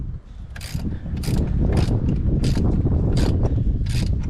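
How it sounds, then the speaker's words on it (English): An adjustable wrench loosens a 15mm brake caliper bolt on a C5 Corvette, giving a run of close metallic ratcheting clicks and clunks in irregular bursts, loud and steady with no talk. "I'm just going to use an adjustable wrench on that nut, 15mm on this bolt"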